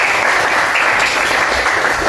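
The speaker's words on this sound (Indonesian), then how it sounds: "Tepuk tangan dulu dong buat." Students clap in a classroom, a steady bright wash of many hands close by, sustained evenly without pause or talk.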